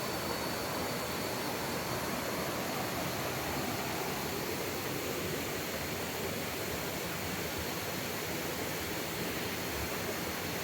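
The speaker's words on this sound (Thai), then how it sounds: "ก็คือ น้ำตกนะครับที่ ด้านหลังของอุทยานแห่งชาติ เขาใหญ่อำเภอปากช่องจังหวัดนครราชสีมาครับ" Waterfall at Khao Yai National Park in Nakhon Ratchasima, Thailand, a steady, dense rush of falling water roaring continuously and close by, with no voices over it.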